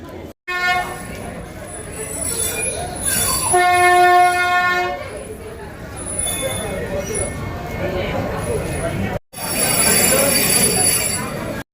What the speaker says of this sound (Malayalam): അപ്പം നമ്മൾ എല്ലാവരും ട്രെയിനിൽ കയറി